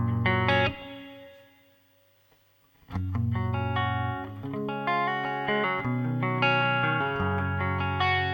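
Clean electric guitar through a Roland JC-40 Jazz Chorus amp with reverb added, strummed chords ringing with a long reverberant tail, a brief pause and decay, then fuller sustained chords resuming, loud and alone.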